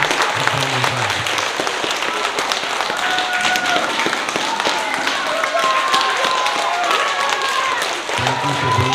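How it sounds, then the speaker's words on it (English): Sustained applause from a school audience at a spelling bee, with steady dense clapping from a crowd of children that holds at an even level throughout. "please give a round of applause for our contestants, Tanner and Emerson"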